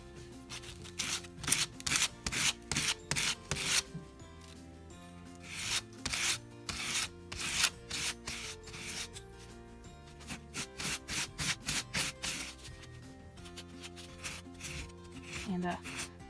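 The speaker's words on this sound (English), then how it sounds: "But for now, I'm just going to sand it." Sandpaper rasps against a small balsa wood crankbait in quick bursts of short rubbing strokes, close and crisp, pausing briefly between runs, with no talking.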